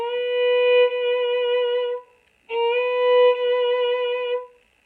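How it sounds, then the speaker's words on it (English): A violin plays two sustained, bright notes, the second starting with a quick finger slide up into pitch for a jazzy effect, separated by a short pause. "slide my finger to make a jazzy sound like this"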